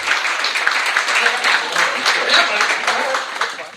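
An audience at the Legacy Awards breaks into steady applause, dense clapping from many hands that holds for several seconds.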